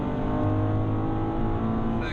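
A Nissan 370Z Nismo engine drones loud and steady under load as the car accelerates out of a corner at a Spa track day, with a driver talking over the constant engine tone.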